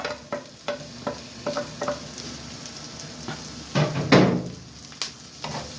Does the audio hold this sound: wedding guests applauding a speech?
no